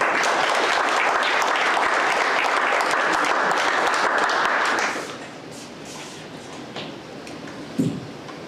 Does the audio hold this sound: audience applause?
yes